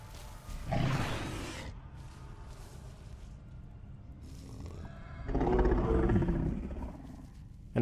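Two deep, rough creature roars, one early and one longer near the end, with rumbling low growls between them, fairly close and loud.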